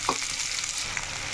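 Cut okra pieces hit hot oil already holding chana dal and sputter, a dense close sizzle with a brief stir at the start, continuing alone without any voices.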